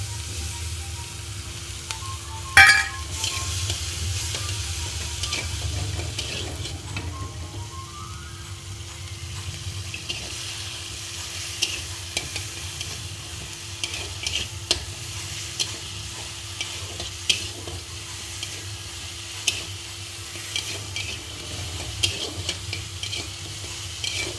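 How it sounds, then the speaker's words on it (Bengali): Onions fry in a pan with ground tomato paste, a soft, continuous sizzle with scattered stirring scrapes and light knocks throughout, no voices. "পেঁয়াজটা ভাজা হয়ে এসছে, টমেটো মোটা দিয়ে দেবো, যে টমেটো বেটে রেখেছি।"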